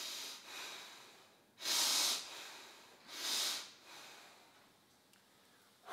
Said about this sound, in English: squat and breathe. Through the nose.